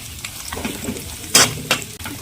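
Cashews and raisins frying in a spoonful of ghee, a light close sizzle broken by stirring scrapes and one or two sharp clinks of a utensil against the pan.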